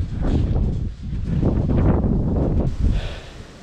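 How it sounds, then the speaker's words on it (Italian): Strong wind buffets the microphone on a cycle path between Spoleto and Norcia, a continuous roaring rumble with gusty surges and dips over a few seconds, close and loud, with no talking. "Sempre vento, quarto giorno su 11 di vento, incredibile, è forte,"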